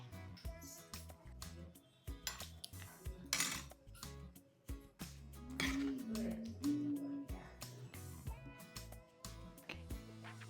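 Baby corn mushroom gravy curry being served into a bowl, with irregular metallic clinks and scrapes of a spoon against cookware, close and fairly clear, over a faint background hum.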